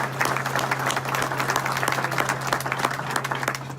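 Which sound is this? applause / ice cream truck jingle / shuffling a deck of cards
applause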